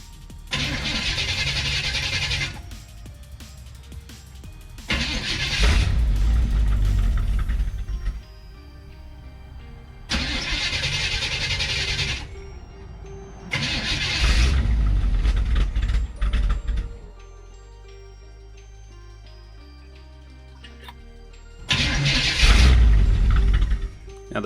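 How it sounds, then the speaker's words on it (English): A 1964 Chevrolet Impala, abandoned for over twenty years, cranks and fires on added fuel, then revs in several loud bursts separated by quieter idle or silence; a rough, sputtering old V8 sound recorded up close. "throw some more fuel at it and see if we can get a good rev out of this thing"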